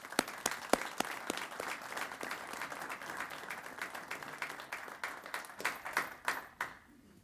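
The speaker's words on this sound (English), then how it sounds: "Let's give them a round of applause." Applause from the audience at a Detroit police and fire recognition ceremony, a room of people clapping with distinct sharp claps standing out over a steady patter, moderately distant and building slightly toward the end.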